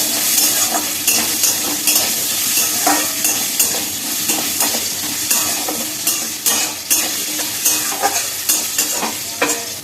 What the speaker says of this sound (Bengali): আলুগুলোকে দিয়ে দিলাম আলুগুলোকে ভেজে নিলাম